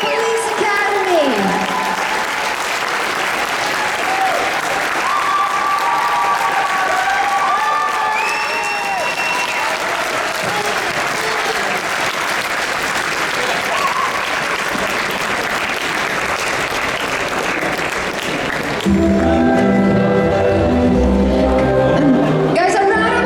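Audience applause for the Police Academy cast at a convention panel, a dense steady clapping crowd that fills the clip, with a few voices and whoops over it and a louder, closer burst near the end.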